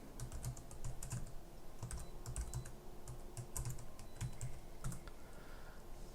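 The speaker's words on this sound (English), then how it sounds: "hit enter, enter the password" A password is typed on a computer keyboard, a quick run of crisp key clicks in uneven bursts, close and fairly soft, with no talking.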